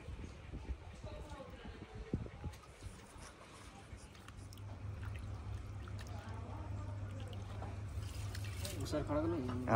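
Water is poured over freshly cut pieces of fish to wash them in a village kitchen, a faint splashing trickle that grows steadier toward the end while people talk nearby.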